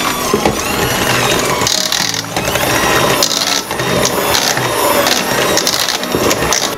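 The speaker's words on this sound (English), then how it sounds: "Hand mixer." An electric hand mixer whirs through mashed potatoes, a busy buzzing drone broken by clicks and scraping knocks against the bowl, close and loud with no talking.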